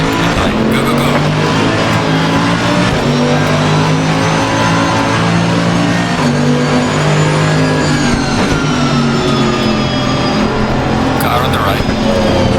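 Race cars roar around Suzuka in Assetto Corsa Competizione, one engine screaming steadily close up with gear changes and rising and falling revs, with tire noise and other cars nearby throughout.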